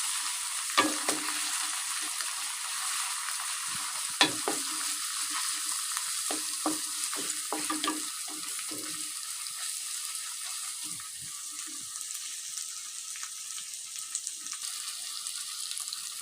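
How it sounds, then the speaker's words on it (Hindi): Garlic, ginger and green chili paste fry with onions in a pan, a steady bright sizzle broken by scattered stirring scrapes and clacks, close and continuous throughout. "अब हम डालेंगे लहसुन, अदरक और हरी मिर्चों का पेस्ट और इन्हें भूनेंगे 2 से 3 मिनट।"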